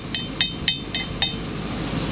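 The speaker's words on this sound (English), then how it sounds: "Give it a little knock with the hammer." Five light metallic taps of a hammer knocking a metal tab off farm machinery, evenly spaced, each with a bright ringing edge, over a steady low background hum.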